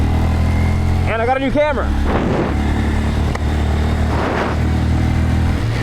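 A Honda Grom motorcycle ridden on snowy, icy roads holds a steady engine drone with some rising revs, loud and close, while the rider talks over it.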